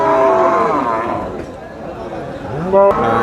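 A cow, a Sahiwal-Friesian cross, moos loudly close by amid a busy cattle market crowd, followed by a second rising moo near the end.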